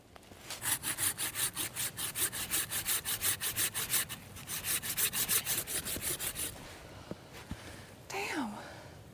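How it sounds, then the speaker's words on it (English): A hand saw cuts into the trunk of a tall tree in Appalachian woodland, with fast steady back-and-forth rasping strokes that stop partway. A few knocks and a brief voice come after it. "I've never cut down a tree this tall, so let's just go"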